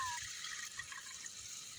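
Water pours steadily into a cooking pot for sardines and misua, a close, continuous rushing splash that holds level throughout.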